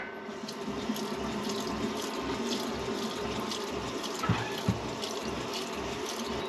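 Steady stream of tap water filling a pot for potatoes in a van kitchen out in the desert, a continuous rushing pour with a couple of soft clunks near the end.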